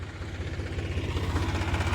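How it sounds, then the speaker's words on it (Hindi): A Massey Ferguson 245 tractor reversing on a farm field road, its engine giving a steady, rhythmic low throb that runs continuously and fairly close, with no other prominent sounds. "ट्रैक्टर बैक कर रहा भाइयों। क्या शानदार आवाज़ है मैसी 245 की"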